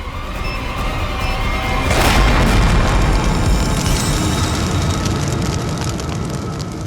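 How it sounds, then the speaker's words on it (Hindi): A dynamite bomb detonates in a crime drama scene, a loud booming blast swelling around the two-second mark, then a sustained rumbling roar that carries on to the end, with no talking. "डायनामाइट बम से अलग करेंगे तो बम फट जाएगा।"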